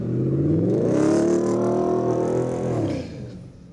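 A pickup truck engine revs hard through its exhaust, one loud sustained rise in pitch that holds, then eases off and falls away near the end, with no talk over it.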